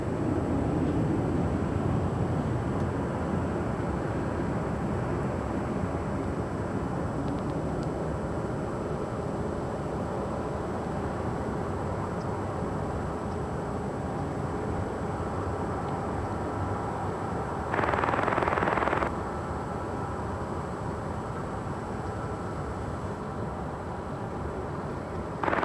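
A jet takes off down runway 24 left at LAX, its engine roar a sustained broad rumble heard from a distance, steady and without talk, with a brief brighter swell near the end.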